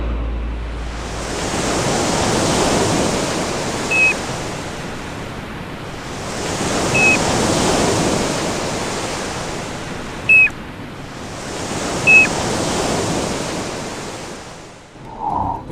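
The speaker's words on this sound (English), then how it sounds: "piping plover, meaning plaintive bell-like whistle" Piping plover giving brief, plaintive bell-like whistles, several single notes spaced apart over steady loud surf and wind on a beach, faint against the rolling waves.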